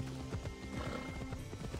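A horse in the video game Assassin's Creed Odyssey gallops with quick, rhythmic clip-clop hoofbeats, close and steady over a soft background wash, with brief talk underneath.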